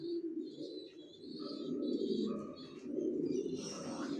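Young racing pigeons cooing in a breeding loft, several soft throaty coos overlapping at close range with a few higher chirps mixed in, no talking.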